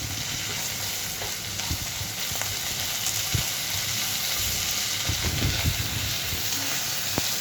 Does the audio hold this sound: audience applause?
no